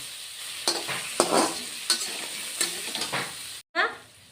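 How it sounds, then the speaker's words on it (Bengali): Chili and turmeric being sautéed in a pan for a fish curry, a soft continuous sizzle broken by repeated stirring scrapes and utensil knocks, then a brief pause and one more stir. "লঙ্কা হলুদ দিয়ে এখন আমি মিনিট একের মতো কষিয়ে নিব"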